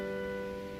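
A major chord sustains on piano, several steady notes ringing together at moderate volume with no voices, cut off after under a second.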